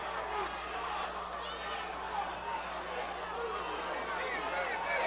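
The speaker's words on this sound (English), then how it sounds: "The crowd in unison yelling for the knee" An MMA fight crowd at an Icon event yells together in a steady, loud roar of many voices, distant and unbroken throughout, with chatter mixed in.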